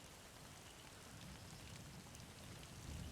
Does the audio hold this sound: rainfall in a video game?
yes